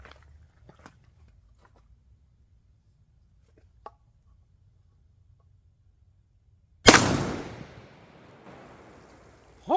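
An RIA Traditional single shot 12 gauge shotgun fires a Winchester 1 ounce rifled Foster slug outdoors, one sudden loud blast after several seconds of near silence, followed by a long fading echo.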